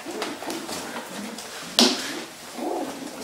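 Racing pigeons coo softly in a loft, their low rolling calls repeating in gentle pulses, broken once by a sharp close tap or flutter.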